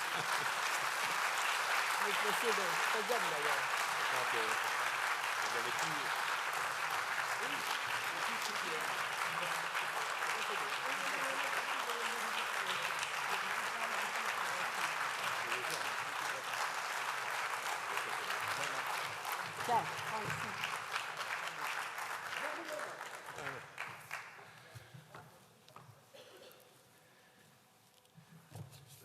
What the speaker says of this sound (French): Vous avez le droit de l'applaudir, hein?